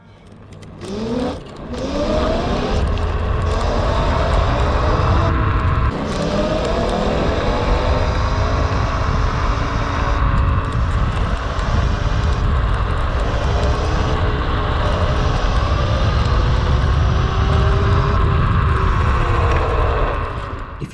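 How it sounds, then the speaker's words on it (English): A Currus Panther electric off-road scooter with powerful motors and knobby off-road tires screams along at speed, a loud sustained motor whine rising and falling in pitch over constant wind and tire roar. "The combination of the powerful motors and off-road tires make the scooter scream."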